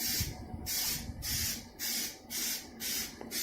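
Aerosol spray paint applied to a Nissan Pulsar GTiR bumper, five steady hissing bursts separated by short pauses, close and clear, with no talk.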